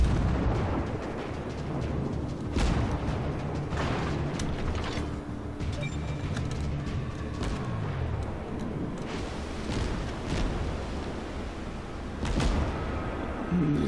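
Front guns of a warship firing in World of Warships, deep booming salvos over a continuous rumble of engines and sea, with a few heavier blasts spaced across the stretch and no talk.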